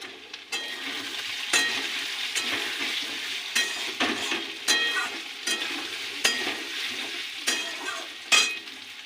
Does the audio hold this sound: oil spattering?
yes